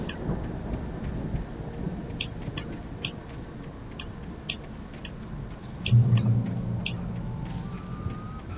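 Thunderstorm in the video game Alan Wake Remastered: constant rain hiss with low rumbling, a heavier thunder swell about two-thirds through and scattered sharp ticking drips, all fairly soft and with no talking.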